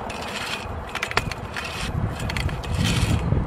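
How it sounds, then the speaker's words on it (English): A Torq'd composite auger pole is driven into hard ground with a post ratchet, giving close, steady wooden scraping and grinding with a few sharp clicks and knocks throughout. "we're using what's called a post ratchet. And we're just going to simply drive this into the ground"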